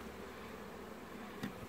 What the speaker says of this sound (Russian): Кстати, здесь пчелы вообще мало.